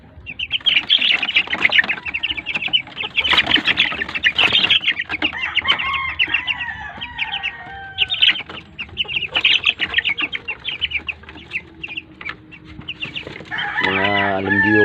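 Week-old chicks peeping in a dense, continuous chorus among farm chickens, with a rooster crowing near the end, loud and close, brief talk mixed in.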